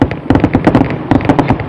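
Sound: fireworks exploding, Fourth of July

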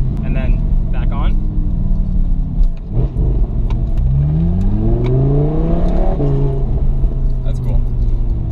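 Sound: Audi R8 V10 accelerating with Fabspeed exhaust

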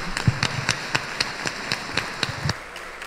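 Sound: audience applause for the band

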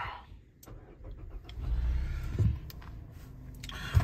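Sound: car engine starting

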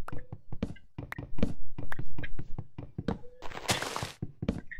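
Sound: chopping down a tree in Minecraft video game

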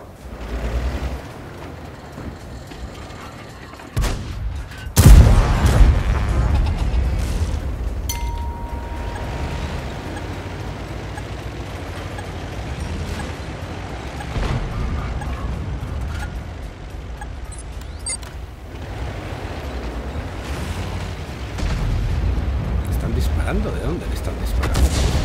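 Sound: artillery fire in a video game

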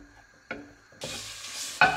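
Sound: minced meat sizzling in its own fat in a pot

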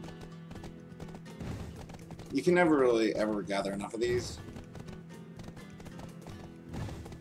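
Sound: horse hooves galloping in video game Black Desert Online

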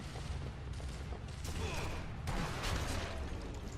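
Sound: gunshot in Sniper Elite V2 video game

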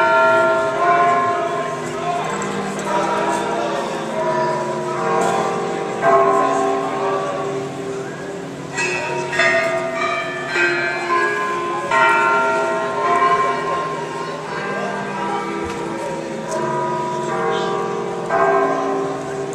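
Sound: bells of the cathedral in Mexico City

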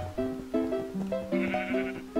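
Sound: sheep bleating in a Minecraft Hypixel minigame

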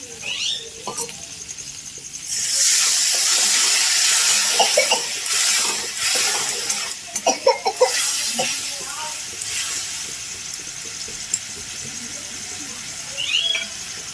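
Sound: water poured into cooking pot

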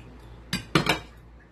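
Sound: utensils mixing quinoa avocado black bean salad

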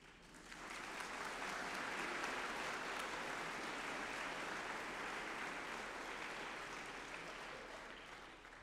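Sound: graduation audience applauding

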